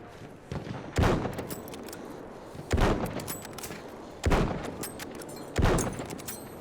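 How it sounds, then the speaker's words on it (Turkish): Machine gun fire in the Battlefield 1 war game, four loud bursts of rapid shots spaced at even intervals with quieter battlefield noise between them. "There's a machine gun."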